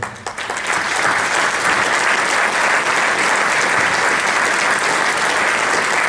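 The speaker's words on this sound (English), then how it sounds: "please stand as we give you a much-deserved round of applause for this wonderful addition to the MIAA." Sustained, dense applause from a large audience standing at a Hall of Fame enshrinement ceremony, loud and steady for about six seconds with no talk over it.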